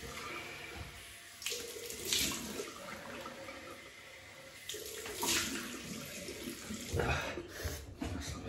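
Water splashes and runs as alum is rinsed off a freshly shaved face, coming in several bursts of splashing between quieter stretches, close by and with no voices.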